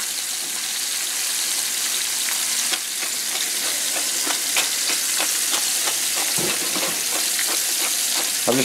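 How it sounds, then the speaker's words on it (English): Tenderloin sears in a hot skillet with loud, continuous sizzling, broken by sharp crackles and pops as the meat spits, close up with no talk. "I'm just going to sear this tenderloin in the skillet."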